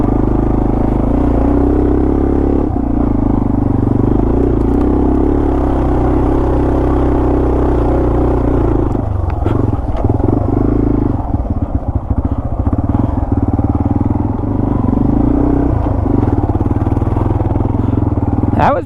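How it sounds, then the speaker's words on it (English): A Yamaha TW200 dual-sport motorcycle lugs in second gear on an off-road trail, its single-cylinder engine thumping low and heavy, close and loud throughout with brief clattering bumps and slight throttle changes. "I'm in second gear. I'm lugging it."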